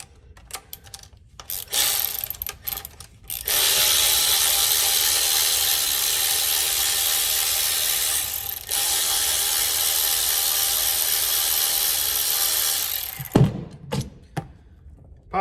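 Ratchet wrench loosening and removing the two bolts from the starter of a 2009 Honda Big Red utility vehicle, with a sustained, loud whirring ratchet run of about ten seconds framed by short clicks and handling noises.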